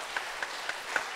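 A church congregation gives a short round of encouraging applause for the worship team during a Sunday praise service, a dense, fairly quiet patter of clapping with a few sharper claps standing out.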